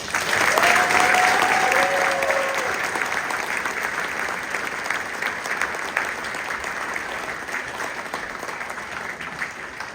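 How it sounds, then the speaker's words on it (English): Audience at a spring band concert applauding graduating seniors, a broad sustained wash of clapping that starts strong and slowly tapers over ten seconds, with faint voices mixed in. "So can we give our seniors a round of applause?"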